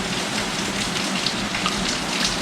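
Steady rain falls in a dense, even hiss with soft scattered drops, close by and unbroken.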